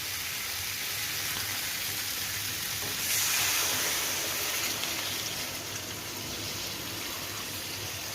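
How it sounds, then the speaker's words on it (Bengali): Sizzling fried vegetables and spices in a pan for Bengali fish jhol, with a louder hissing surge as water is poured in partway through, then a steady bubbling sizzle. No voices. "সবজির সঙ্গে মশলা আমার কষা হয়ে গেছে, এবার দিয়ে দেবো জল।"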